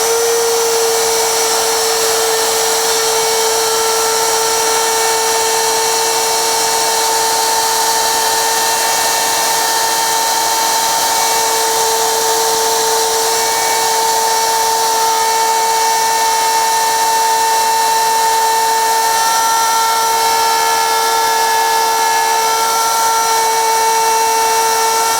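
A power tool carving a wooden bar sign whines continuously and loudly at close range, holding a steady pitch throughout with no talk.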